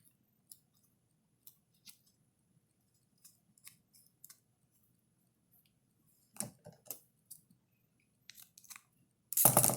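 Adhesive tape is pulled and pressed onto rolled paper tubes, giving sparse faint ticks that build into several louder sticky rips and crinkles near the end, in a quiet room.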